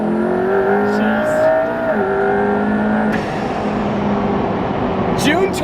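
A 1400 hp twin-turbo Lamborghini race car on Trofeo R tires accelerates hard, its engine note climbing steadily through gears, loud and close throughout, with talk over it.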